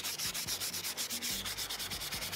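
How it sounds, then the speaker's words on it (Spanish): Sanding wood by hand to strip an old finish for marine-themed decor, a steady back-and-forth scrubbing with rhythmic strokes, close and fairly loud, with no voices. "Y vuelvo a lijar,"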